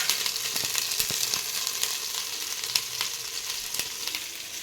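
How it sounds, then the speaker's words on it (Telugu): Chicken mixed with onions fries in a pan for biryani, a close steady sizzle with a few soft clicks of stirring. "ఉల్లిపాయలు కలుపుకొని కలిపి పెట్టుకున్న చికెన్ వేసుకుందాం"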